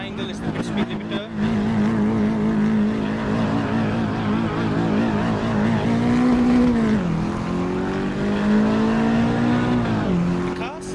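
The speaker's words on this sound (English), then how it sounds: "The car sounds a lot gruntier than it normally would." A race car engine drones steadily throughout, its pitch rising and dipping with gear shifts, loud and close over a rumbling background, in the racing game Assetto Corsa EVO.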